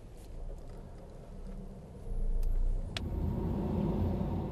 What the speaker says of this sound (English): Reinhold steps on the gas. The B-Class responds.